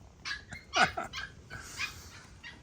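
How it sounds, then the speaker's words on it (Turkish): A puppy barks and yips in a quick run of short, high, excited calls, with a few softer whimpers between them, close by with no talk over it. "Bir de yavru köpeğimiz var Pamuk."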